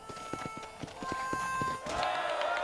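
Horses gallop in a race in the Red Dead Redemption video game, rapid hoofbeats thudding in a steady rhythm, mid-distance, followed by a rising rush of wind-like noise near the end.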